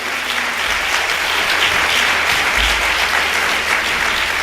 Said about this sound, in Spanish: Y un aplauso para ellos, para la marcha de mañana